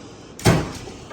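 A drawer in a Snap-on KRL Hot Rod Edition tool box slides open, giving one short, close rolling whoosh that ends in a brief thud.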